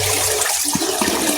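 Water from a tap rushes loudly and steadily while vegetables are washed under it, a constant splashing flow with small irregular bumps and no voices over it.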